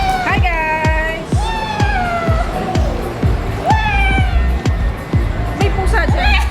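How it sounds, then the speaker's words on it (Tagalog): A cat meows repeatedly in rising and falling cries beside a pool at a swimming resort, with steady splashing, chatter and crowd noise throughout; the meows come close and fairly loud over the busy background. "May pusa dyan."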